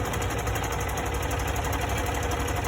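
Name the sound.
sewing machine stitching a face mask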